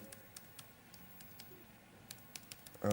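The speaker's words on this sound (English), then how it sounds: "My keyboard's broken." Quiet, irregular keystrokes tapping on a broken computer keyboard with some keys not working, a few scattered clicks with pauses, ending in a louder thump.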